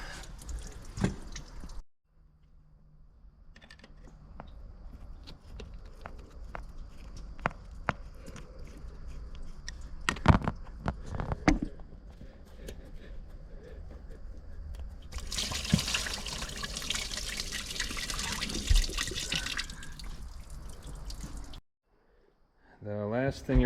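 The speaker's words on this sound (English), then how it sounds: "There it goes. Let that water come out." Water runs and drips from the other drain point of a MerCruiser I/O sterndrive engine during winterizing. A continuous close trickle with scattered drips swells into a louder splashing stretch, with a voice heard at moments.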